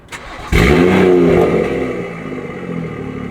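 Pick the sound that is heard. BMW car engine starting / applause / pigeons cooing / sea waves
BMW car engine starting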